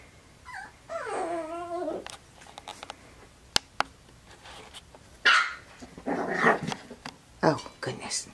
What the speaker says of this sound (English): And who's barking over there?